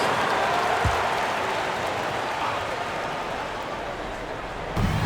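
Steady applause from a large crowd at a PBA basketball game fills the arena continuously, a dense wash of clapping with a brief thump near the end.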